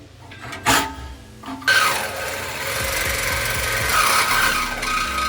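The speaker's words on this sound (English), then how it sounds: "Let's just take a minute to appreciate the sound of that die grinder putting in the work." A couple of sharp knocks, then a harsh, high-pitched grinding rasp as a die grinder cuts into metal on a Ford truck during lift kit installation, loud and continuous for several seconds.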